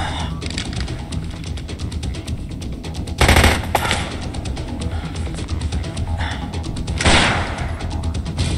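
Rapid automatic enemy gunfire in the video game Dead Rising, a long run of fast, loud repeated shots with two heavier bursts partway through.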